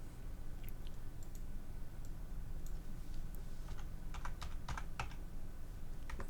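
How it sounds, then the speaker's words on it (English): Rapid, uneven tapping on a computer keyboard, light clicks at first, then a denser burst of keystrokes toward the end, close and clear over a steady low background rumble with no voices. "Let's type in Israel."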